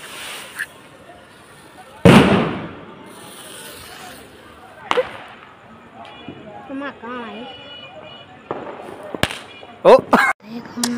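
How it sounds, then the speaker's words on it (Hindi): A red bomb firecracker goes off with one sharp, loud bang, followed later by several more cracks and pops outdoors during Karwa Chauth celebrations, with people talking in between. "इसमें लाल बम है। चलो चलाते हैं, ये देखना अभी।"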